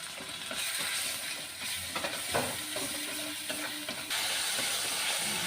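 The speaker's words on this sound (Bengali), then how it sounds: "মশলাটা আমি কষে নিলাম" Ginger-garlic paste with turmeric, chilli powder and cumin powder frying in a pan, a steady sizzling hiss with scraping stirring knocks throughout, close and fairly loud, no voices.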